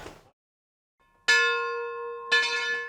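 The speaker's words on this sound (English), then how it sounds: "Tony Semler rings the church bell at the Iglesia de San Antonio in Tiffany, Colorado." A single church bell at the Iglesia de San Antonio in Tiffany, Colorado strikes twice, each clang ringing out with a long, bright sustained tone, in a quiet setting.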